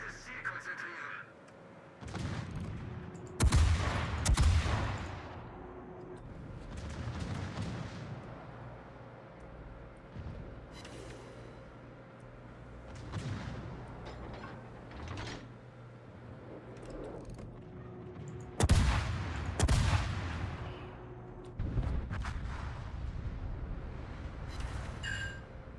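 Heavy naval guns boom in a video game sea battle, several loud blasts in bursts with rumbling tails and lighter shots between, under a low mechanical hum.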